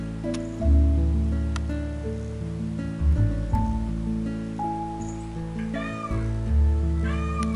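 A contented cat meows repeatedly up close, a series of drawn-out, tonal calls with short gaps between them and soft rustling underneath.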